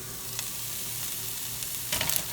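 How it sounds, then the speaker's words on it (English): Bacon, eggs and onion sizzle in a pan with a loud, continuous crackling hiss, and a brief stirring scrape near the end. "Hear that sizzle?"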